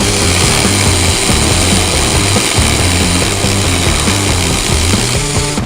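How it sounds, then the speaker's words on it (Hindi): A power drill fitted with a cutting attachment saws through wood with a loud, continuous high whir and rough grinding that never lets up, close up and with no talk. "ड्रिल मशीन से लकड़ी कट गई पहली बार"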